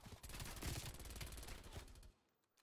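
Rapid automatic gunfire from a Mac 10 submachine gun in Call of Duty Cold War, a dense close-range burst of about two seconds that cuts off abruptly into quiet, heard alone with no talk.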